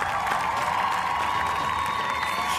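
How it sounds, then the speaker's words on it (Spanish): Audience applause and crowd noise at a celebration of Peru's Copa América semifinal qualification, a steady dense wash of clapping and cheering. "Un aplauso para él, por favor."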